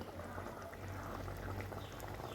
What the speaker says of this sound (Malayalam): തിളച്ച് വെന്ത് അടിപൊളിയായിട്ടുണ്ട് കറി.